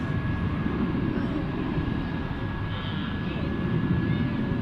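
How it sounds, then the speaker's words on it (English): A steady broad rumble of an American Airlines Airbus A321 landing on runway 18 right at Dallas Fort Worth International Airport, heard continuously from a distance with a faint whine over it, no talk. "we check out this A321 landing on runway 18 right for American Airlines"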